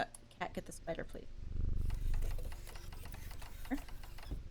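A cat purrs softly in the Strange Antiquities video game, a low steady rumble beneath faint clicks and background game sounds.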